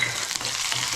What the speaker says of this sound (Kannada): ಈಗ ಎಣ್ಣೆ ಕಾದಾಗಿದೆ. ಇದಕ್ಕೆ ಸ್ವಲ್ಪ ಬೆಳ್ಳುಳ್ಳಿ ಹಾಕಬೇಕು